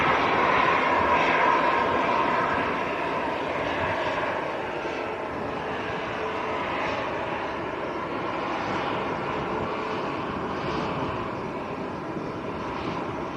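An EasyJet airliner at Manchester Airport, bound for Gibraltar, roars steadily as a broad, sustained engine rumble that holds fairly loud throughout and fades slightly toward the end, with no talk over it.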